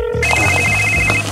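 A telephone rings in a single short burst of bright electronic tones, loud and close, with no one speaking.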